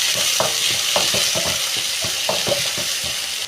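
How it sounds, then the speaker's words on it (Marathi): Onion, tomato and green chili sauté in a pan for cabbage bhaji, giving a loud, steady sizzle close by, with rhythmic stirring scrapes repeating under it. "कांदा, टोमॅटो, हिरवी मिरचीला आपण सॉटे करूया।"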